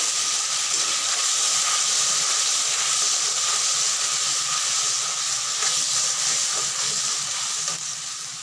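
Spices and tomato pieces hit a hot pan for an aloo paneer curry, giving a steady, loud, broad hiss and sizzle that holds the whole time with no talk over it.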